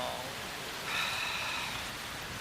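Rain falls over open moorland as a steady, even hiss, with a faint tonal streak passing briefly through the middle and no talking.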